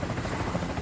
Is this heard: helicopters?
yes